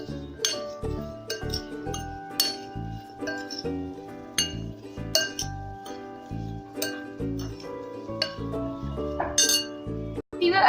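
Snack grains being mixed in a glass bowl, a close, irregular string of bright clinks and taps of the spoon against the glass, with no one talking.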